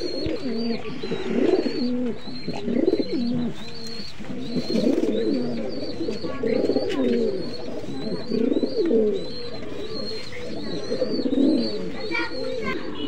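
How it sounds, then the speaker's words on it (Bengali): Benaras pigeons, a red-necked male of the old Khulna Benaras breed, coo in repeated low throaty phrases close by, with faint chirps from other birds behind and someone talking over parts of it. "এটা একটা বেনারস কবুতর"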